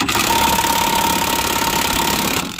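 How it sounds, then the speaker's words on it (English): A Milwaukee 18-volt brushless Fuel 3/4-inch drive impact wrench on setting 3 hammers steadily at a cross-threaded lug nut, a loud continuous rattling drone held close for over two seconds before easing off. "we're going to use the Milwaukee Impact from Home Depot. This is the 18-volt brushless fuel 3/4 inch drive"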